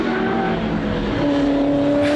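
A V8 race car, a Roush Mustang, is pushed hard on a racetrack, its engine a loud sustained howl that shifts pitch partway through, with no voices.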